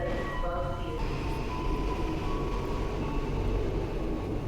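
A new KRL commuter train runs at Sudirman station in Jakarta, giving a steady rumbling roar with a few tonal whines early on. The sound stays constant and moderately distant throughout.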